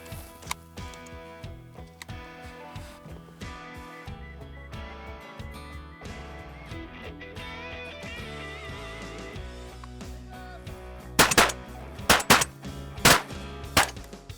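Shotgun blasts from duck hunters at the Great Salt Lake, a tight cluster of four loud, sharp reports near the end, following a stretch of steady music-like background.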